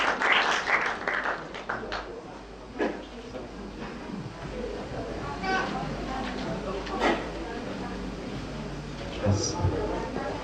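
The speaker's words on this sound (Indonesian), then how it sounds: "Berikan tepuk tangan untuk Brother Solihin." A church congregation at a New York Sunday service claps to welcome a guest preacher, a broad wash of applause that starts loud and tapers slightly, with talk mixed in underneath.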